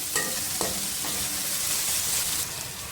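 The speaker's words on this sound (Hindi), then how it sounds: "इसके साथ इसको मैं 1 से 2 मिनट तक फ्राई करूँगी।" Thick-cut vegetables fry with onion in a pan, giving a steady close sizzle with a few spatula scrapes near the start as they are tossed.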